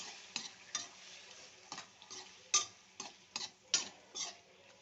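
Tomatoes, cloves and cinnamon frying in oil with ginger-garlic paste, soft sizzling bed with a series of distinct stirring clicks and scrapes of the spoon against the pan, near and fairly quiet.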